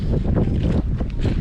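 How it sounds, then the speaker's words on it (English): Strong gusty wind buffets the microphone on Sorrel Hill in the Wicklow Mountains, a loud, steady roar with rumbling low-end bursts throughout. "Very windy, but dry and blue skies."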